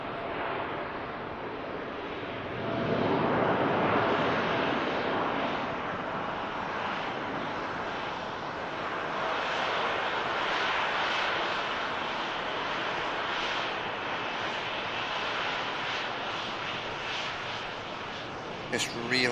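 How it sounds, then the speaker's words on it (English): TUI airliner on its departure takeoff roll at Manchester Airport on a hot summer day, a sustained jet engine roar swelling after a few seconds and holding loud and broad, with a talking voice over it. "TUI departure roll"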